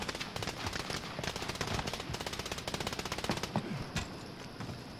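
Rapid automatic gunfire rattles in Call of Duty Warzone, dense bursts of shots in quick succession with a few louder single cracks, fairly loud and continuous with faint voices underneath.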